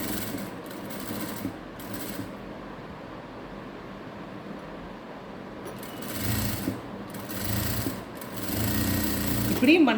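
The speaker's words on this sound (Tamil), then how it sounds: "தையல் போட்டு காமிக்கிறேன்" Sewing machine stitching a Baahubali-style sleeve, its motor whirring in rhythmic bursts with short pauses between runs, close up, alongside quieter background noise.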